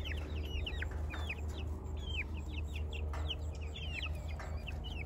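Young chicks in a chicken tractor cheep and peep continuously in many overlapping rapid calls, close and busy over a steady low hum.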